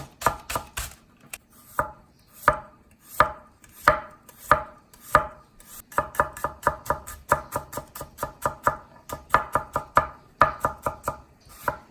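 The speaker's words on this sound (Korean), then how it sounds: "파는 송송송송 썰어 주세요" A knife chops green onions quickly and repeatedly on a cutting board, crisp close taps in steady bursts, speeding into a rapid rhythmic run with brief pauses.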